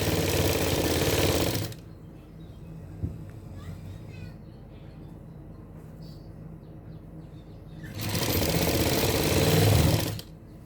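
A sewing machine stitches the sleeve of a suit in two loud bursts of rapid whirring at the start and end, with a quieter pause between where faint sounds are heard.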